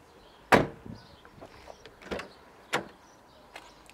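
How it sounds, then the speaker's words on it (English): Rear electric windows on a Nissan Juke 1.6 Tekna Xtronic running inside the cabin, with a sharp clunk followed by short motor whirs and a few further clicks and thumps, close and clear. "electric windows on the back"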